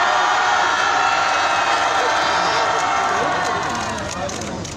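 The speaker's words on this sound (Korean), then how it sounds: "5초간 큰 소리로 함성을 질러주세요." Protest crowd at the 1399th Wednesday Demonstration in Korea raising a loud, sustained collective shout, a dense roar of many voices holding steady for about five seconds before easing slightly at the end.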